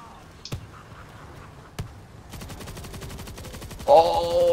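Lance SMG firing in the zombie shooter World War Z, Jerusalem level: two isolated shots, then a fast, steady burst of automatic fire running to the end, joined near the close by a louder tonal game sound.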